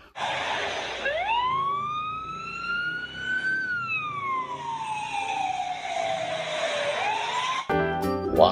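A toy ambulance siren wails in a rising and falling electronic tone, loud and close, sweeping up, holding, then gliding down before cutting off into a short burst of buzzy clicks.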